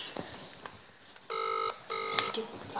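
A telephone ringback tone sounds twice, each a steady electronic burst of about half a second with a short gap between. It is fairly quiet over faint room noise and scattered clicks, with soft voices nearby.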